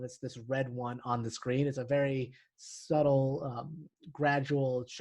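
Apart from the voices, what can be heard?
No everyday noise stands out behind the speech.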